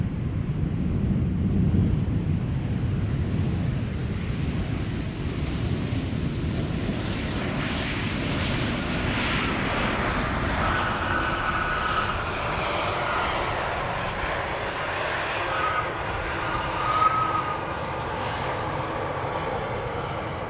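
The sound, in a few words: Embraer 190 jet aircraft arriving at Schiphol Airport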